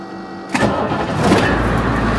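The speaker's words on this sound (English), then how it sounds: "So we are on diesel right now. And now, let's make sure it's running well. It's running perfectly." A diesel engine converted to run on waste vegetable oil cranks and catches after a short silence, then settles into a loud, steady idle rumble close by.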